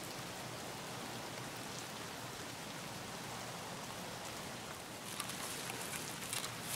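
Steady rain hisses and patters evenly in Escape from Tarkov, a soft, continuous wash of falling drops with no voices.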